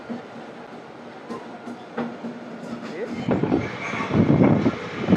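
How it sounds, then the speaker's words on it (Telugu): A parallel train hauled by a WAP7 electric locomotive starts moving beside the coach at Vijayawada Junction. Rail noise builds from a low hum into louder clattering and rumble, with a voice talking over it. "మన పక్కన ప్యారలర్గా ఒక ట్రైన్ అయితే స్టార్ట్ అయింది."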